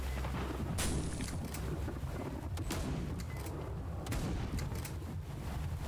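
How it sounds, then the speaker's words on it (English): Shotgun blasts in the first-person shooter VLADiK BRUTAL, several loud booming shots over a dense, continuous background of game noise and rumble, with no talking. "Let's use shotgun."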